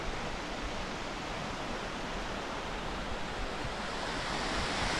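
A waterfall (cachoeira) in Petrópolis roars as a steady broadband rush, loud and unbroken throughout, with a slight swell toward the end and no voices.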